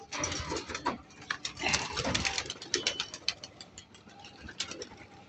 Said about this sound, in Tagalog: paliparin muna natin yung ating mga kalapati